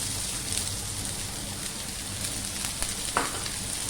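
Onions frying in a pan for a Bengali mint chutney, giving a steady hiss of sizzling throughout with a few faint clicks, no voices.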